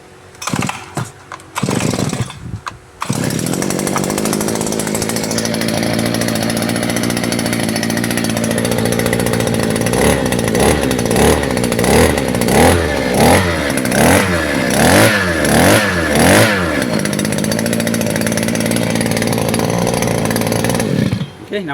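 A petrol earth auger engine is pull-started with a few sharp cord tugs before it catches and runs loudly and continuously, pulsing in a rhythmic series of revs midway before settling back to a steady drone.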